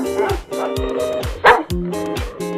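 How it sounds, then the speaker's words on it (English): A dog barks in a run of repeated woofs and yips, loud and close, spaced about every half second with a brief whimper-like tone in the middle, against a steady musical backing. "D for dog."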